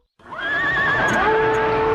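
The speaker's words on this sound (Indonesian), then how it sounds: "Mereka menuruni tebing dengan kuda dan langsung menyerang markas musuh." A horse in a Doraemon cartoon gives a loud, close whinny that starts suddenly and holds as one long wavering neigh, with faint hoof clatter beneath.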